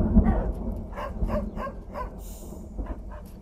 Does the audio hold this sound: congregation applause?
no